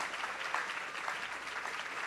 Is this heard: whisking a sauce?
no